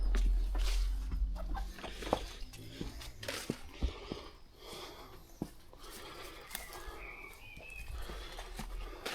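Backyard chickens cluck softly in a quiet farmyard setting, scattered short clucks and rustling with occasional knocks, faint and intermittent with no talk.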